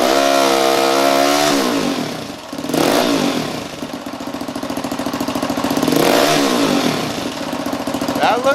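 An engine revving under a fresh charge, rising from a rough idle to loud sustained revs with a second climb, close and loud, with no talk over it.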